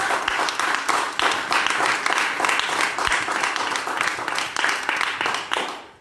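A seminar audience applauds loudly and steadily for about six seconds, many hands clapping together in a dense, continuous roar that fades out at the very end.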